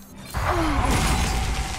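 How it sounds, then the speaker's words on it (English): Arcane Explosion spell effect from the card game Hearthstone: a sudden dense burst that breaks in after a brief quiet lead-in and holds as a loud, shimmering crackling wash to the end. "Bit of an interesting choice there, because now I can play Arcane Explosion."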